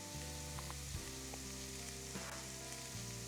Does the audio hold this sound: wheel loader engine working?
no